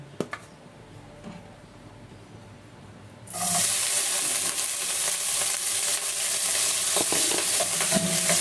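Garlic and cauliflower hit hot oil in a pan, bursting into a loud, steady sizzle after a few quiet seconds, with faint clinks of utensils under the frying.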